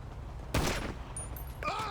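Gunfire in an online video game, a single burst of shots standing out against steady background noise, followed by fainter game sounds.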